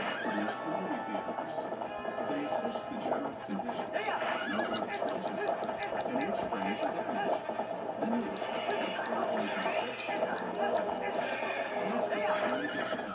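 A horse in Zelda: Twilight Princess HD on Wii U neighs and whinnies over steady clip-clopping hooves, all inside a dense, continuous mix of game sound.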